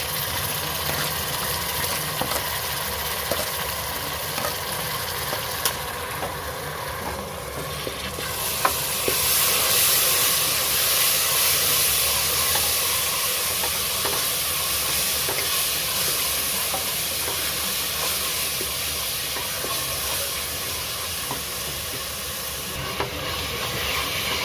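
Ginger garlic paste sizzles and spits in a hot pan while a prawn biryani is being made, a dense steady frying hiss with occasional stirring scrapes. The sizzle grows slightly louder partway through and runs unbroken with no talking.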